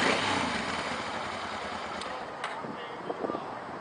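A 1990 Honda Transalp XL600V dual-purpose motorcycle with 76,000 miles runs steadily at idle, a continuous low engine drone with wind noise over the microphone and a few faint clicks near the end.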